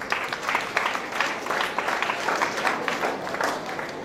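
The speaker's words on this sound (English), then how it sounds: "Colleagues, join me and we clap for our patrons." Audience applause for event patrons at a formal gathering, a steady dense wash of many hands clapping together for the full stretch, fairly close and even in loudness, with no talk over it.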